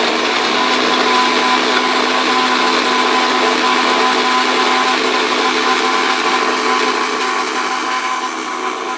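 Mixer grinder running steadily while blending sesame seeds and jaggery into juice, a loud continuous motor whine with a constant hum that never pauses.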